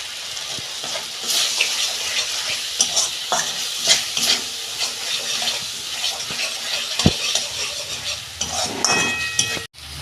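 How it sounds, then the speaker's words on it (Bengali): Chana masala with Kashmiri chilli powder is stirred and fried in a pan, giving a continuous close sizzle with scraping and stirring strokes throughout, no talk over it. "আমি ভালো করে কষাবো এইটা।"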